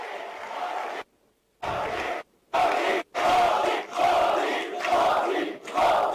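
A large crowd welcoming India's Prime Minister at a SVAMITVA scheme event in Madhya Pradesh bursts into loud applause and cheering in repeated bursts, separated by brief silent gaps.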